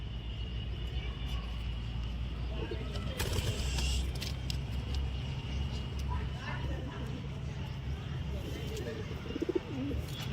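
Pigeons coo softly in a pair's enclosure, their low calls repeating under a person talking nearby, with a faint steady background hum.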